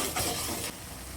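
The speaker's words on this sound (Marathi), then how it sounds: "आता यामध्ये हे वाटण टाकूया. मसाला परतत घेते मी." Ground masala paste hitting hot oil with curry leaves, a loud broad sizzle that flares as it lands, then settles into a steadier, quieter frying hiss.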